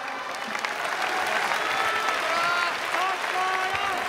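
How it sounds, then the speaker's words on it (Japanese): Arena crowd at a RIZIN mixed martial arts event applauds steadily, a thick wash of clapping with some voices and a public-address voice faintly under it. "そして所選手に盛大な拍手をお願いします。"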